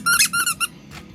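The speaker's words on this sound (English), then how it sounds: "Here is a squirrel. That's really cute, and he squeaks." Squirrel-shaped squeaky dog toy squeezed three times in quick succession, bright close rubbery squeals, then a fainter fourth squeak trailing off.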